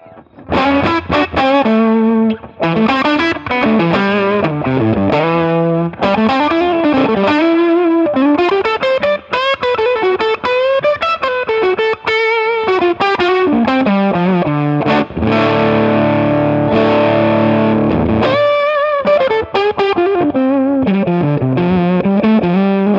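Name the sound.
guitar through overdrive pedal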